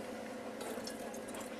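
Water is poured into a cooking pot for a lamb offal dish: a soft, steady close-up stream of liquid filling the pot, with no voices.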